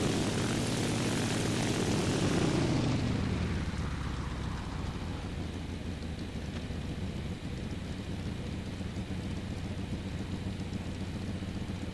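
A propeller aircraft engine in a flight combat video game drones loudly, then its roar drops and settles into a steady, lower mechanical hum as the throttle is cut.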